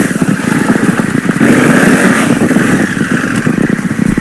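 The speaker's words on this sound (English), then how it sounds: "so all the blipping is going against the rear brake" A Honda Africa Twin motorcycle is blipped repeatedly against the rear brake during a slow tight turn, its engine close and loud, rasping in a steady, pulsing stream of short throttle bursts, with no talk.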